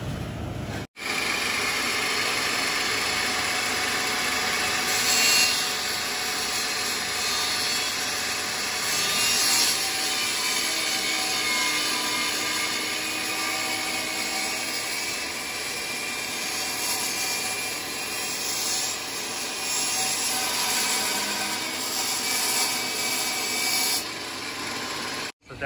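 A 2x6 wooden board being sawn by hand, steady rasping strokes close and loud, continuing without pause for the whole stretch.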